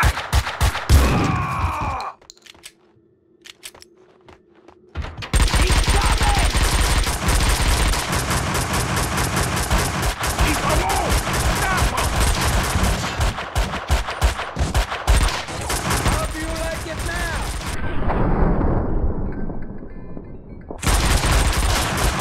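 Gunfire from the video game Max Payne 2: rapid, loud automatic bursts in dense strings, broken by a short quiet gap early on and another near the end.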